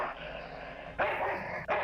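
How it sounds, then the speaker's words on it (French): A dog barks in the video game Full Throttle Remastered, two loud sharp barks close together near the end, after a quieter stretch of game sound. "Gentil le chien, gentil."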